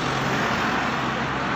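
Steady roadway din from cars and other vehicles moving in traffic during a temple procession in Taiwan, a loud, continuous wash of engine and tire noise with no clear speech.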